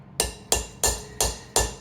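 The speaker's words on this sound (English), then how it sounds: "give her a few taps with a hammer" Five evenly spaced sharp metallic taps from a claw hammer seat a valve part on a Subaru 2.5 SOHC engine, each strike crisp with a brief ringing decay, close and alone.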